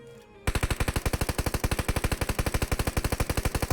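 Rapid automatic gunfire in the mobile battle-royale game PUBG Mobile, a long evenly spaced burst of about thirty loud shots starting after a brief quiet moment.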